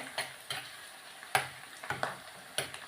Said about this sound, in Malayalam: ഇഞ്ചിയും ഉള്ളി എല്ലാം കൂടെ ഒന്ന് വഴലട്ടെ